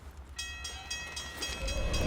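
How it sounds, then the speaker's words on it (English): Trains rush past in a video game, a steady rumbling passage with a rising whistle-like tone, loud and close, with no voice over it. "And there's a lot of trains going by at this particular moment."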